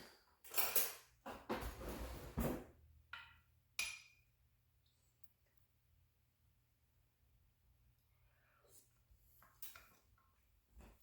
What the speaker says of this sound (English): let me grab a spoon and give this a taste